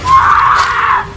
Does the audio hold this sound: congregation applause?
no